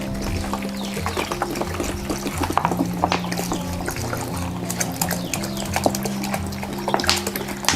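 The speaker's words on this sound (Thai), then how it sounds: "และเติมน้ำสะอาดลงไปเลยค่ะ" Clean water is poured into a pot holding coriander root, cracked star anise and pepper, with a steady liquid splash and trickle running close and continuous beneath a droning background.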